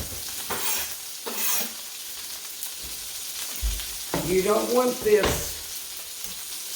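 Hamburger patties fry in a pan with a soft, uneven sizzle and a few scraping bursts, while a person talks briefly over the cooking near the end.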